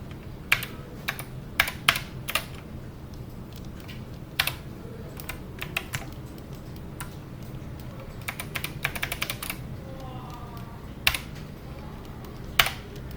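Computer keyboard keys are pressed while modeling a die in 3ds Max: irregular clusters of sharp, close clicks and taps, some rapid runs and some single presses, over a low steady background hum, with no talk.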